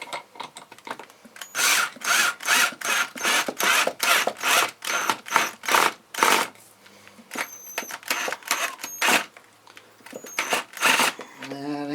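A wrench tightens bolts in a series of rapid ratcheting bursts, each a second or so long with short pauses between, loud and close, with a voice heard now and then.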